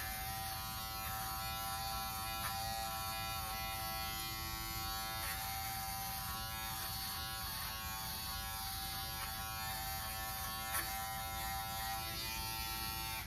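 A Norelco OneBlade and trimmer buzz continuously while shaving off a goatee, a steady quiet electric drone with faint scratchy texture as the blades work through hair and no one talking.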